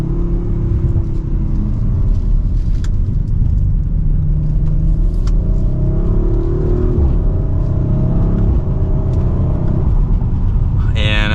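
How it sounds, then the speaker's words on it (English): A 2023 Audi RS5 Coupe accelerating hard from second gear with its exhaust turned up, a steady loud engine rumble and whir rising through the shifts from inside the cabin. "not crazy loud, but it does get louder when you turn on that exhaust"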